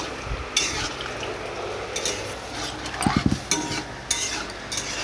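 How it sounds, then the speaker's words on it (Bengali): A spoon scrapes and clacks against a pot while a thick curry is stirred after water is added, with a quick burst of knocks midway over a low simmering hiss. "জল দেওয়ার পর একটু মিশিয়ে নিচ্ছি"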